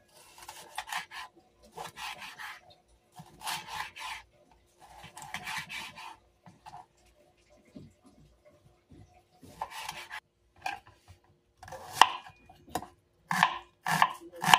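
A knife slices an onion on a cutting board for sweet and sour tilapia: short bursts of quick, crisp cuts separated by pauses, close and fairly loud, growing sharper toward the end.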